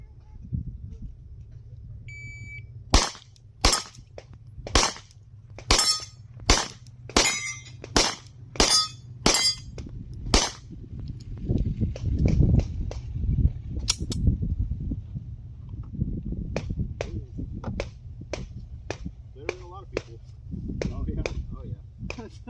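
Gunshots on a shooting competition stage: about ten sharp shots in a quick, uneven string, then scattered fainter shots farther off, with people talking and steady background noise throughout.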